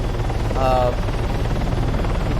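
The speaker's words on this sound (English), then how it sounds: "I'm going to talk to you like we're flying a helicopter." Helicopter in the video game Arma 3 flying low, a steady rotor and engine drone running throughout at a constant loud level, with a brief tonal whine rising partway through.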